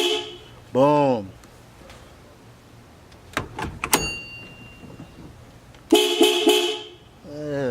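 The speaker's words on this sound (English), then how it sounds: "And the horn works" Horn of a Honda Integra, sounded through a newly installed quick-release steering wheel, gives a loud, close blast lasting about a second near the end, after a few short clicks and brief talk.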